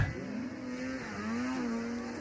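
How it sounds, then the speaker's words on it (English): A race car engine roars at ERX Motor Park during Friday night racing, a loud sustained drone with a steady pitch that dips and climbs again as the car holds speed through the final lap. "Can hear the engine of 3rd place, 393, Mitchell Fruth."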